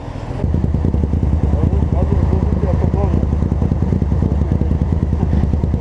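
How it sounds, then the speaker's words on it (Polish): A loud motorcycle engine runs steadily throughout, a rough, throbbing drone with clattering mechanical texture, close by and continuous. "Nie słyszę cię w ogóle przy tym motorze."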